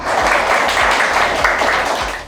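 Warm audience applause at a primary school performance for young student actors, a dense, steady clapping wash with low rhythmic thumps beneath it.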